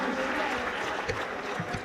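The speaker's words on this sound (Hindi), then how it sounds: "जोरदार तालियों से स्वागत करें भावना श्रीवास्तव जी का" Audience applause fills a hall at a hasya kavi sammelan at BHU welcoming poet Bhawana Srivastava, a dense steady wash of many clapping hands, moderately loud and sustained throughout.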